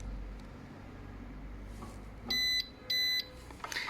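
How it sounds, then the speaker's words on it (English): Alarm system on a Ducati Multistrada 950 motorcycle giving two sharp electronic beeps on activation, each about a third of a second long, loud and close over low background hum. "press the small button one time and you're gonna hear 2 beeps"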